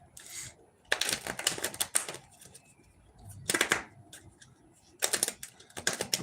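Cards being riffled and shuffled in several quick crackling bursts, with quiet pauses between them.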